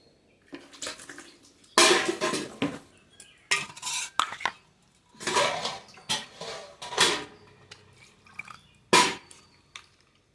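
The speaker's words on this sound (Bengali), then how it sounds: "পেঁয়াজটা একবারে ধুয়ে" An onion washed in water in a kitchen, irregular splashes and wet handling knocks in separate bursts with quiet gaps and no speech.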